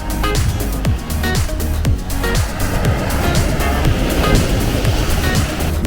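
Mediterranean Sea waves at Belek, Turkey, wash in continuously, a full, rushing surf roar with repeated breaking swells, fairly loud and close, no voices.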